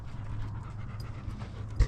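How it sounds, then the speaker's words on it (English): A dog pants steadily and rhythmically close by, quick repeated breaths continuing throughout, with a brief knock near the end. "And the dog."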